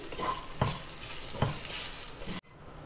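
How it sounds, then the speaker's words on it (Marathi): Steady frying sizzle with a few scraping stirs of a spatula in a pan, close up, as black pepper, spices and fresh coconut roast lightly, ending abruptly. "ओला नारळ खूप नाही लाल होऊ द्यायचा आहे आपल्याला, फक्त थोडंसं परतून घ्यायचं आहे।"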